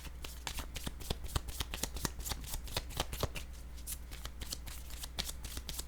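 Tarot cards are shuffled by hand up close in a continuous run of quick riffling slaps and flutters that lasts several seconds, with no talking.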